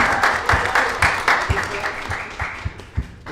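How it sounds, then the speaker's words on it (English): A short burst of applause from a small group, claps thinning out over a few seconds. "give them all a round of applause"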